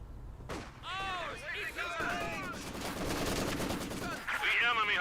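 A Maxim machine gun fires in Company of Heroes 2, with rapid bursts and gunfire rattling alongside ricochet-like whines and other battle noise, while a commentator talks over the action.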